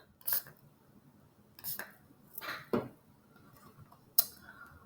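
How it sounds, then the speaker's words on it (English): Water from a spray bottle misting onto watercolor paper in short bursts: four or five quick hissing sprays, separated by pauses, close and fairly soft. "I'm going to spray a bit of water right here"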